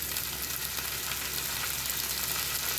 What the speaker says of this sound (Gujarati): આપણું લસણ એકદમ કકડી રહ્યું છે અને થોડુંક હજી ડાર્ક કરશું